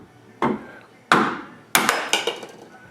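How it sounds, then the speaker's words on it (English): Sledgehammer blows landing on a 2x4 wooden block to separate a C5/C6 Corvette control arm from the wheel hub, three heavy thuds followed by a rapid cluster of lighter knocks, close and loud. "we just use a 2x4 to soften the blow, make sure we don't damage the metal, and a good sized sledgehammer to separate the two assemblies."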